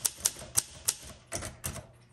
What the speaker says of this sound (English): when you hear that bell, that's telling you, hey, you're at the end of the line